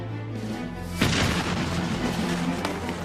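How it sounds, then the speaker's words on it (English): Cannon fire in a recreation of Santa Anna's 1836 siege of the Alamo fort: a single heavy boom lands about a third of the way in, then rolls into a long, loud rumbling decay over a low steady hum. "Santa Anna's cannons slowly battered away at the walls of the fort"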